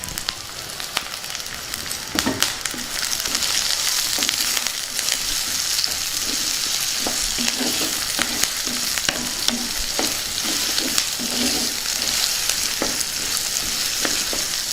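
Onions, green chillies and curry leaves fry in a pan for elephant yam gravy, a loud, steady crackling sizzle with frequent sharp pops and stirring scrapes, and no voices.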